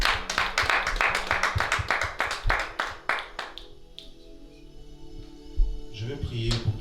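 A church congregation clapping in rapid rhythmic bursts that fade after a few seconds, followed by quieter scattered claps and voices in a large room.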